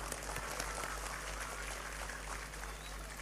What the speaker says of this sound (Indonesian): Tepuk tangan untuk Indramayu.